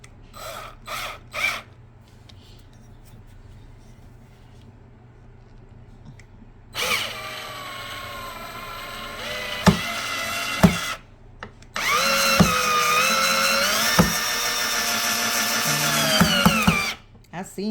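A power drill drives screws into a broken Walmart desk during a makeover, whirring in several loud bursts with ratcheting clicks and short pauses between them, while faint speech sits in the background.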